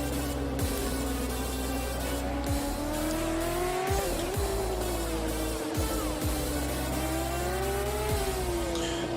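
A Kawasaki racing motorcycle's engine revs continuously, the pitch climbing and dropping through gear changes as it pushes hard around a track, loud and steady for the whole stretch.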